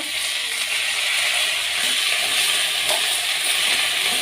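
Drumstick leaves and onions fry in a pan, a loud, steady, hissing sizzle that holds constant throughout with faint clinks of stirring.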